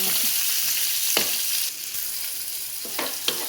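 Tomato frying in a pan for creamy malunggay pasta, a bright continuous sizzle with a few sharp stirring clicks and spatula knocks, close and alone.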